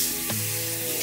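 A molded mouthguard rinsed under cold running tap water, a steady close hiss of flowing water with a slight shift in tone partway through.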